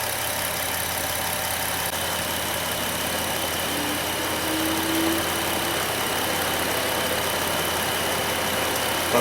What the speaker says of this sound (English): Well, the fan just kicked on.